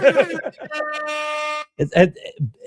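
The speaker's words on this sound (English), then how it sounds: "It was loud, air horn." A single loud, sustained air horn blast lasting about a second, with voices talking just before and after it.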